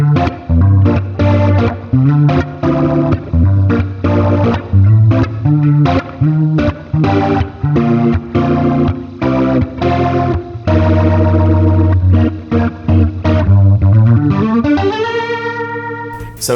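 An electric guitar fitted with Music Man JP15 pickups plays overdriven chords and riffs, thick with chorus and distortion, in a continuous rhythmic phrase that ends on a sustained, fading chord.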